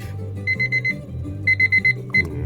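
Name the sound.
kitchen timer alarm beeping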